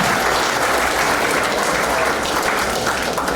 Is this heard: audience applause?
yes